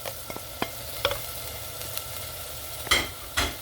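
Turmeric, red chili and coriander powder stirred into lentils frying in a pan, with a soft steady sizzle and a few sharp spoon scrapes and knocks, close and fairly quiet.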